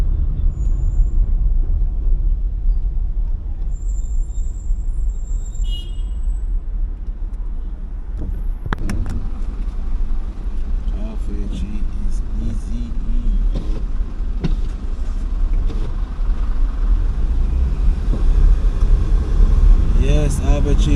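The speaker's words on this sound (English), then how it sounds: "Lots of traffic right now in Arbitrary." Heavy street traffic at Half Way Tree in Kingston, Jamaica, with a steady loud rumble of cars and buses, the hiss of an air brake and passing engines, and voices talking over the din.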